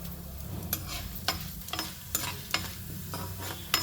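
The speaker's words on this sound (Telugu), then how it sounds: "ఇందులోనే ధనియాలు జీలకర్ర వేస్తున్నాను" Coriander seeds and cumin frying in a pan with urad dal and chana dal, a steady close sizzle broken by sharp scraping taps of a spoon stirring, with no voices.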